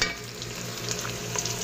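Onions frying in oil in a cooking pot for an aloo bhindi dish, a steady close sizzle and crackle filling the short moment with no talking.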